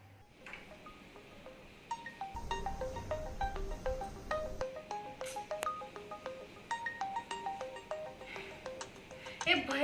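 A phone's ringtone plays a repeated, bright electronic melody in clear, tone-by-tone pulses, moderately loud in a quiet room, with a short low rumble partway through.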